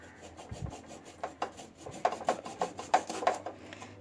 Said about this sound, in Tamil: இந்த முனையை வந்து நான் கட் பண்ணிக்கிறேன்